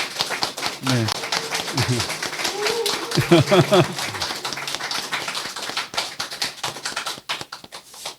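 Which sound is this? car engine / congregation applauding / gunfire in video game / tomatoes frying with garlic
congregation applauding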